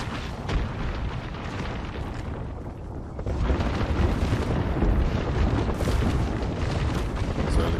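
Creeping barrage explosions in Apex Legends during an esports qualifier match, a dense continuous roar of booming blasts that swells louder midway and keeps rumbling without pause.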